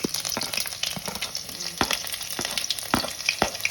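Mustard seeds and garlic sizzle and crackle in hot frying oil, with sharp pops scattered through a steady close hiss and no voices.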